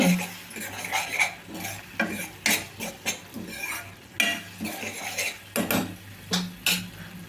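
A spoon scrapes and clinks against a pan while garlic chutney is stirred with lemon juice, making rhythmic mixing strokes over a faint sizzle, with no voices.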